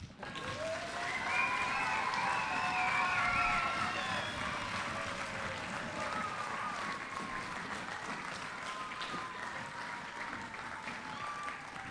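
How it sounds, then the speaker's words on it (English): A school audience at a primary school's ARISS space-station radio contact event bursts into loud, sustained applause, hands clapping and feet stamping in a dense roar that swells early, then stays steady throughout. "if you've got the biggest round of applause with the stamping of your feet and the clapping of your hands, I think it needs to happen right now"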